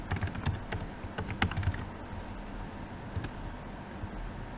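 A computer keyboard clatters with quick, uneven keystrokes as a password goes in, close and fairly loud, clustered in the first half and then thinning to a few scattered taps over a steady background hiss.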